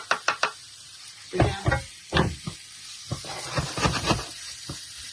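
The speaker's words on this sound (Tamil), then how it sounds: "உள்ளி எல்லாத்தையும் போட்டு கொஞ்சம் உப்பு போட்டிங்கன்னா டக்கண்டு பொரியும்" Garlic frying with a pinch of salt in hot oil, a greens-mash (keerai kadayal) preparation: crackling sizzle with sharp spatters and stirring knocks close by, bursts coming in uneven clusters.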